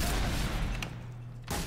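Rapid gunshots in the video game Hidden: Source, a dense burst of loud firing that briefly drops away before another shot.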